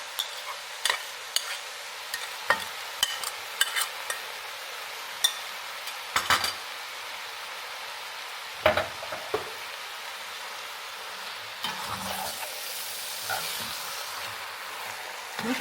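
Sour cream being mixed into a pot of potatoes with mushrooms and chicken, with a soft bubbling simmer and occasional sharp clinks and taps of a spoon against the pot, fairly quiet and close.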